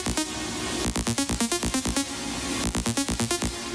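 Lead synth in Fruity Loops with the standard Fruity reverb automated and its wet level boosted, no compression: a fast run of rhythmic plucked notes with a bright, washy tail filling the gaps, loud and alone.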